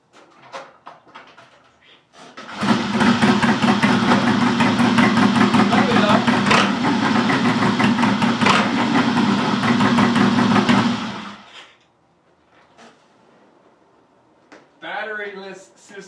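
A Triumph T100 motorcycle fitted with a batteryless Boyer Power Box ignition starts and settles into a loud, steady idle close by for about nine seconds, then cuts out abruptly; a voice speaks briefly afterward.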